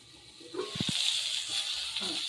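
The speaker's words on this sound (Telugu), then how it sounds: "రెండు నిమిషాల సేపు ఈ టమాటోలని ఇందులో బాగా మగ్గనివ్వండి" Tomatoes with a little salt cooking in a pan for a bottle gourd chutney, giving a steady close hiss and sizzle with a few brief low bubbling pops.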